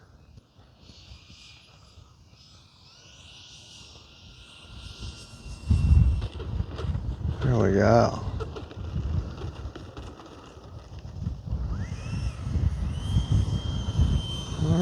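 A Freewing F-22 Raptor 80mm electric ducted-fan RC jet whines and roars as it passes overhead, with a rising, sweeping tone and wind noise, while a nearby voice speaks briefly.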